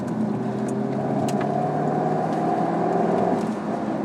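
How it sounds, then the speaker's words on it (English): A 2016 Jaguar F-Type R or Ford Mustang GT runs on the road, its engine a steady, loud, continuous drone with a sustained tonal hum, no talk over it. "You know, you hear the crackling through the exhaust."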